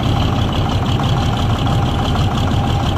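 A diesel engine with a rebuilt injection pump and injectors idles steadily, loud and close, a constant rumbling drone with no talk.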